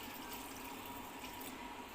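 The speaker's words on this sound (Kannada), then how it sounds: "ನೀರು ಹಾಕ್ತೀನಿ ಬೇಯೋಕ್ಕೆ." A glass of water pours into a pot of bamboo shoots and salt set up for pressure cooking, a steady, close splashing rush that runs for about two seconds with no voices.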